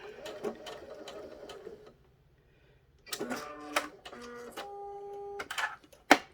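A sewing machine stitches a small lip balm pouch, running in short bursts and reversing to back stitch, with brief pauses and a sharp click at the end, close and moderately quiet.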